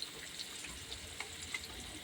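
Fish frying in a pan with oil, a steady broadband sizzle broken by small crackling pops, close up and with no talking.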